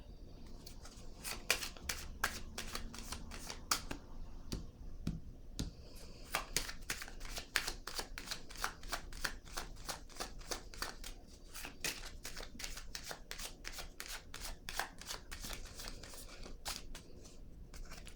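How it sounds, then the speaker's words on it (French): Tarot cards are laid and shuffled on a table, giving crisp papery taps and flicks in quick irregular runs, quiet and close, with no talk. "Je vais déposer une autre carte ici"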